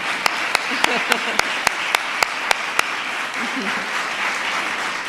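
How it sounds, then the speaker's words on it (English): A crowd applauding at a White House event for military families, steady clapping from many hands with a few louder individual claps standing out. "Let's give them all a round of applause"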